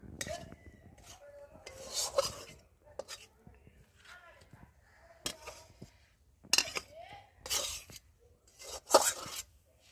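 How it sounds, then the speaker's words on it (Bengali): Cooked cabbage scraped out of a metal wok with a spoon, in short, uneven bursts of rasping and clinking close by, separated by quieter gaps with soft sounds of someone talking. "এখন আমি বাঁধাকপিটাকে ঢেলে নেব"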